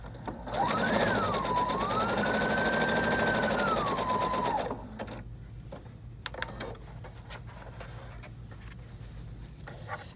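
A Viking Brilliance 80 sewing machine runs steadily for about four seconds stitching a zigzag stitch, its motor whine rising briefly then holding level with a fast rhythmic needle clatter. It stops abruptly, leaving a quiet room.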